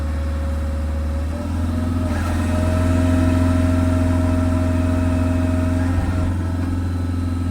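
Toolcat UW56 running an HWP-150 wood processor, a steady loud engine and hydraulic drone holding throughout with a rising whine partway through as the cut is made.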